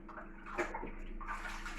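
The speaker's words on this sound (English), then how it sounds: "And I'll just wash my hands for this bit." Hands are washed under a running tap, giving a soft close splashing and trickle of water with a brief louder splash partway through.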